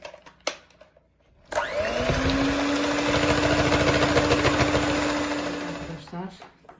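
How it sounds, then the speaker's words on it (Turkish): Electric mixer whipping cream with added cream stabilizer, switching on after a few brief sounds and running loud and steady with a constant motor whir for several seconds before cutting off. "İki tane de krema sertleştirici ilave edip kremam sertleşene kadar çırpacağım"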